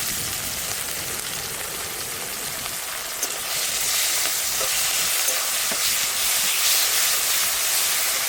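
Chopped onion fries in hot oil with ginger and garlic paste while cooking on a boat, giving a steady, close hiss that grows a little louder partway through.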